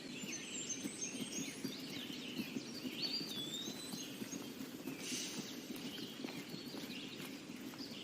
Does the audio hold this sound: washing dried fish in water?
no